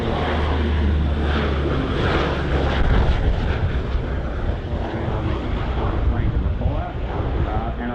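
A Coulson C-130Q Hercules water bomber flies low over a designated fire area during a water drop display, its engines giving a loud, steady, broad roar with wind buffeting the microphone throughout.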